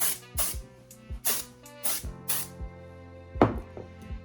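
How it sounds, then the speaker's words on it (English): Texture spray misted onto curled hair in short, sharp hissing bursts, several quick sprays close to the microphone with brief pauses between them. "Just texture spray it again."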